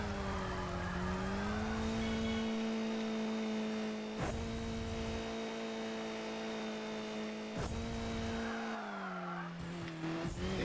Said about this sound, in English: I hear the car coming up, though.